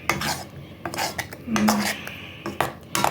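Metal utensil scraping and clinking against a pot while cooking soup with dumplings, a run of close, uneven scrapes and knocks, with one brief squeal partway through.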